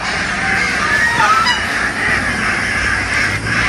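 Ducks in a pen give loud, continuous honking quacks, a dense overlapping flock chorus close by with no talking.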